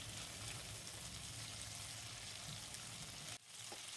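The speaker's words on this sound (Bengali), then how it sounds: "গ্যাসের ফ্লেমটা লো টু মিডিয়ামে রেখে মাছটা আমি 5 মিনিট মতন ভেজে নিয়ে তুলে ফেলবো।" Shrimp frying in oil over a low-to-medium gas flame, a steady close hiss of sizzling that runs unbroken for about four seconds with a brief dip near the end; no talking.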